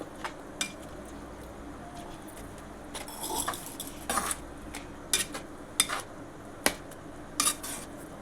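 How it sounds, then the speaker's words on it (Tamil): A spoon scrapes and clinks against a pan while carrot halwa simmers in milk over a low flame, with irregular sharp metallic taps amid a quiet bubbling background. "நல்லா கிண்டுங்க. ஃப்ளேம் வந்து ஸ்லோவில் தான் வச்சுருக்கிறேன்."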